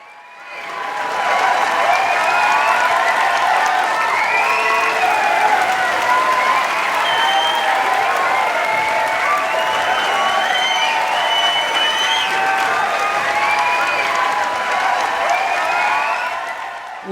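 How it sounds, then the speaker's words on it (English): Theatre audience applauding during a stage musical production, sustained dense clapping that swells in quickly and holds steady and loud throughout, with no talk over it. "Listen to that applause out there."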